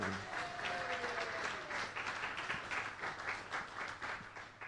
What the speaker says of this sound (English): this is where you applaud wildly for the sponsors